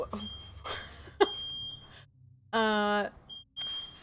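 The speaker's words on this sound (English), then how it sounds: "my smoke alarm is going off" A home smoke alarm chirps in short, piercing beeps, one long sustained tone and a few brief ones, cutting through faint room noise with a voice talking at the start.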